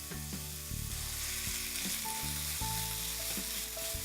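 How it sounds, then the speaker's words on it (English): A chunk of meat browns in a hot pan, giving a steady, close sizzle with faint crackles and occasional stirring scrapes, no voices. "We want to maintain that sizzle."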